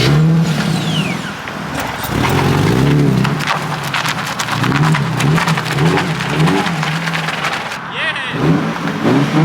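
A takeover street car, battered and trashed, revs hard in loud, surging bursts with a crowd shouting over it, then the engine cuts out near the end.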